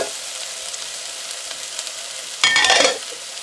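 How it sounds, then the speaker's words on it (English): Onion, green chili pepper, garlic and ginger frying in a pot for Guyanese coconut rice, a steady sizzle with a brief loud burst of scraping stir near the end, no talking. "And I'll give this a stir."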